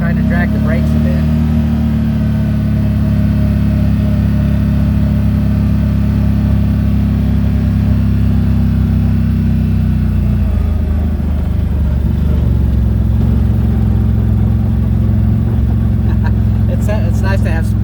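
Kawasaki Z-950 H.O. EX side-by-side with an RNG full clutch kit, its engine droning steadily at close range while the brakes are dragged. Pitch and load shift midway, and a few brief clicks come near the end.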